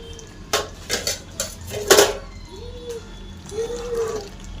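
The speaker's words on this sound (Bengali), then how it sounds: "ঢাকনা খুলে দেখে নিয়েছি" Metal lid lifted off a pot of chicken curry, a few sharp clanks and rattles of the lid against the pot rim, close by, followed by softer ringing scrapes.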